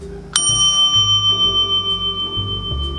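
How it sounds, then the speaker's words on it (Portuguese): A single bright ding of a desk bell, followed by a long ringing tone that slowly fades under a low background hum. "a minha bela companheira campainha"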